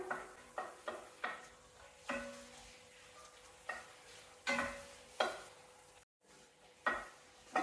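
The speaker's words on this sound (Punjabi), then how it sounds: "ਆਪਣਾ ਅੱਧਾ ਲਸਣ ਭੁੱਜ ਗਿਆ ਥੋੜਾ ਜਿਹਾ" Garlic frying in a pan for a dhaba-style paneer butter masala, with a soft sizzle beneath repeated sharp clinks and scrapes of a utensil stirring against the pan at an irregular pace.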